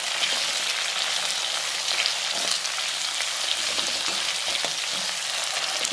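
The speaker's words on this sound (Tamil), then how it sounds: "சேர்த்துட்டு இது நல்லா வதக்கி எடுத்துக்கலாம்." Onion, dried red chilli, coconut, garlic and ginger sautéing in oil for Chettinad fish curry, an even, dense crackling sizzle held steady throughout, close and with no voice.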